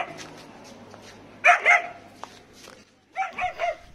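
German shepherd dogs at a pet shop in Demow, Sivasagar, giving two bursts of close barking and yipping with softer whimpers between.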